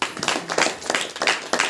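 Hand clapping from a church congregation during a Hindi-language Saturday worship meeting, a series of loud, rhythmic claps in bursts that continue steadily across the short span.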